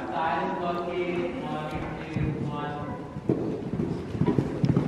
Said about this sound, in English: She's got a firecracker of a horse.